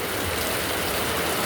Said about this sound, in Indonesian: kondisi hujan